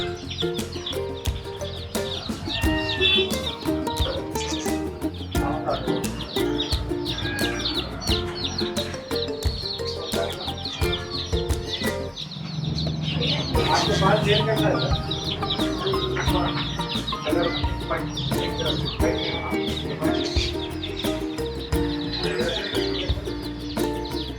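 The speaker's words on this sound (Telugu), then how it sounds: "ఈ చిన్నవి కనబడుతున్నాయి కోడి పిల్లలు" Chicks and chickens at a crowded poultry market cheep and cluck almost constantly, a dense layer of chirps with bleating livestock and faint people nearby throughout.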